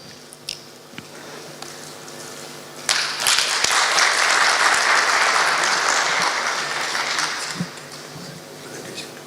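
A conference audience at a dive technology summit breaks into applause after a quiet stretch of stray sounds, a sudden burst of many hands clapping that holds strong for several seconds and then thins out.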